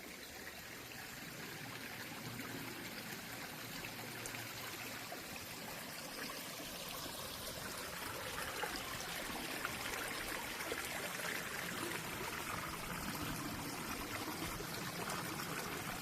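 A small stream of water flows steadily along a fern-lined hiking trail, a continuous close rushing and trickling with no pauses.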